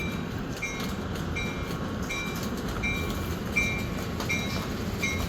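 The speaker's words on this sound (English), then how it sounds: "Now the whole train is starting to move." An Amtrak Capitol Corridor passenger train starts to move, a steady low rumble with a regular high-pitched beeping repeating about every three-quarters of a second, no voices.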